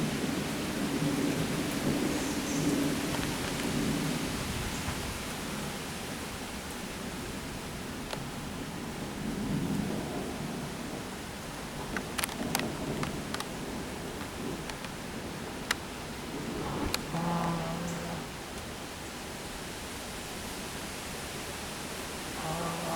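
Thunderstorm with steady rain hissing throughout and low rolls of thunder rising and fading, plus a few sharp crackles in the middle.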